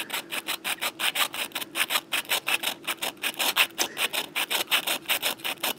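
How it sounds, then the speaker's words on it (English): A metal file grinds across a goose egg shell in quick, regular back-and-forth strokes, each a bright scraping rasp, close and clear with no voices. "you'll find that the sound that the file is making on the egg will actually change slightly"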